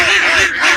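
Ducks from a duck farm let out loud, close, nasal quacking calls that overlap in a short burst, several birds at once.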